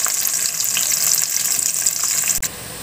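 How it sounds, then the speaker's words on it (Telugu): Dried fish fry in a pan with a continuous bright crackling sizzle, close and steady, that cuts off with a sharp knock near the end. "ఇప్పుడు దీంట్లో మనం ఎండు చేపలు వేసుకుందాం. ఈ చేపలు మనం ఎర్రగా వేసుకుందాం"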